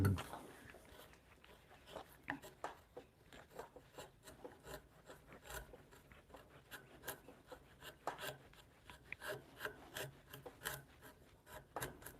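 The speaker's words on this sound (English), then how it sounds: "This chisel is an antique Japanese chisel." An antique Japanese chisel, freshly re-edged, carves a wooden spiral ribbon rail in a home workshop, giving repeated scraping, rasping strokes in an uneven rhythm at close range.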